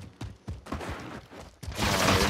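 Gunfire in Call of Duty: Warzone, a quick burst of shots followed by a louder, sustained volley rising near the end, with faint game and voice sounds underneath.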